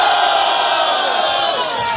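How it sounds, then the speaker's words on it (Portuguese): A crowd at a Brazilian rap battle final cheers and shouts loudly in a sustained roar of voices and whoops, with no single voice standing out. "Barulho, quem achou melhor, Pelé?"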